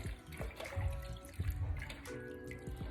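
Water drains from a kitchen sink after vegetables are washed, giving irregular gurgles, sloshes and drips close by, with uneven bursts of sound and no talking.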